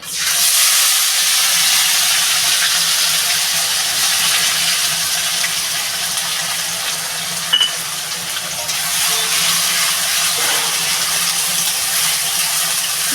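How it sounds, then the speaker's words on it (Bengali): Ginger, garlic and onion paste sizzles in hot oil for a raw banana malaikari curry: a loud, steady, close hiss holds throughout, with a brief knock of stirring near the middle. "আমি এবার এই যে আদা রসুন আর পেঁয়াজের পেস্টটা এটা ঢেলে দেবো"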